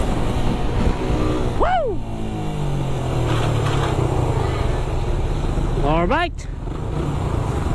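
A Raider 150 motorcycle rides along with a steady engine drone, revving up sharply twice as it shifts through the gears. A rider briefly calls out between shifts.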